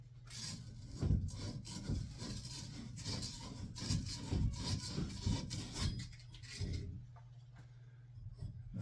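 Burrs are filed off a pipe fitting during a water heater replacement: a repeated raspy rubbing and scraping, close and moderately loud, in uneven strokes for about seven seconds before it stops, over a steady low hum.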